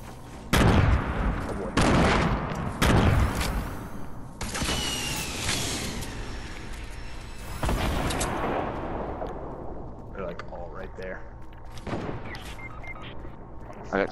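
Sniper fire in an online battle-royale shooter: several sharp, loud shots with booming echoes arrive in the first few seconds, followed by quieter distant gunfire and mechanical clatter under a busy game mix.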